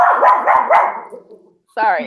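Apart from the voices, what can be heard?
pet dog barking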